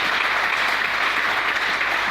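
A church congregation applauding the Lord, steady loud clapping from a large crowd in a hall, sustained evenly throughout without a break.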